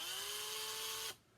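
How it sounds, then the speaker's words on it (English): A small power drill whines steadily at high pitch while twisting wire for a birthstone ring, running loud and close for about a second before cutting off abruptly. "So it's pretty quick with the drill."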